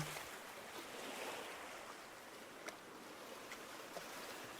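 Steady ocean current ambience with a soft, continuous wash of water and surf, quiet and even throughout, with a few faint clicks near the middle and no voices.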